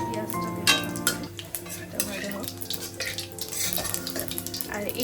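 Onion hits hot oil with cumin seeds in an iron kadai, giving a continuous crackling sizzle with scattered spits and pops and occasional stirring scrapes.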